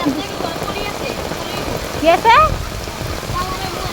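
Heavy rain pouring down outdoors, a dense steady hiss with a brief whistle-like tonal sound partway through.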